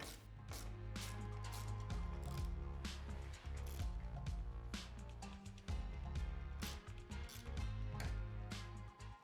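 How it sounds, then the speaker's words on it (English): Repeated ratcheting clicks from a 13mm combination wrench and 5mm Allen tightening bolts while installing a Tusk Stage 2 upgrade kit on a Polaris RZR XP Turbo S UTV, dense mechanical clicking under a steady low hum, close and loud. "You always wanna do the final tightening with that 13mm combo wrench."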